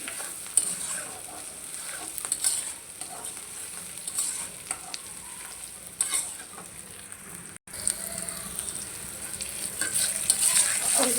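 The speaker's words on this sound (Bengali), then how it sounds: "পেঁয়াজটা ভালো করে ভেজে নিই।" Onions fry in a pan with a continuous close sizzle and crackle, stirred now and then with brief scrapes, alone without voices for the whole stretch.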